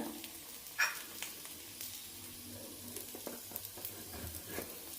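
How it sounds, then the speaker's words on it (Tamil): Sweet chapati sizzles steadily in a pan over a medium flame, a soft continuous frying hiss with a few light clicks of handling, no voices. "மீடியம் ஃப்ளேம்லேயே வச்சு ரெண்டு பக்கமும் நல்லா சுட்டு எடுத்துருங்க"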